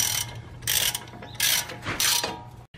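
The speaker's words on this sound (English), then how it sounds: "We will tighten the bracket with the 18mm socket." A ratchet turning an 18mm socket tightens a brake caliper bracket on a 2007 Cadillac Escalade. There are three or four quick, close clicking bursts separated by short pauses.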